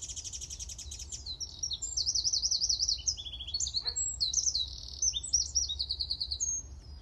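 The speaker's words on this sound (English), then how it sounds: "Oh, listen to that bird." An outdoor songbird sings alone in a lively run of rapid chirps, trills and warbled phrases, clear and fairly close over a soft low background rumble.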